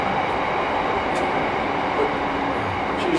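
A train passes close by outdoors during a live music outtake, a steady loud broadband rumble of rolling cars and wheels with no clear talk over it.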